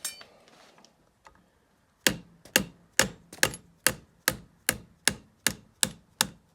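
A rubber mallet strikes the barrel of a Benelli M4 shotgun held in a vise, about eleven sharp, evenly spaced knocks in quick succession, close and crisp, after a few faint handling taps.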